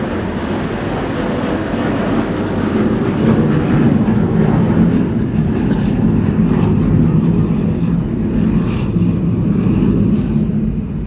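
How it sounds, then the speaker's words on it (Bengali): A loud, continuous low rumble of a heavy train engine departing Ghorashal station in Narsingdi, Bangladesh holds steady throughout, with a broad roar and no clear voices. "এই যে ট্রেন ঘোড়াশাল থেকে ছেড়ে দিল"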